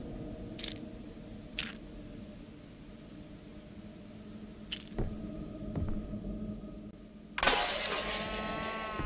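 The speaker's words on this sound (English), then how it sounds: "Alright, we're mirror smashing now." Mirror smashed in the horror game Visage, a sudden loud burst of shattering glass with ringing shards after scattered faint knocks and thuds; no talking.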